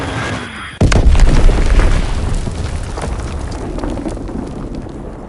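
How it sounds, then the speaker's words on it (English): A bomb explodes in a World War II shooter game, a sudden loud boom after a short quiet lead-in, followed by a long rumbling, roaring tail that slowly fades. "Enemy bomb incoming. Get to cover."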